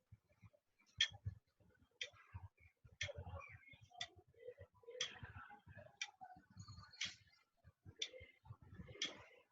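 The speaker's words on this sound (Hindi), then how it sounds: "जब घड़ी चलती है तो उसमें से खास आवाज आती है" A clock's hands tick steadily, about once per second, in a quiet room, each tick a sharp, faint click with soft low knocks between.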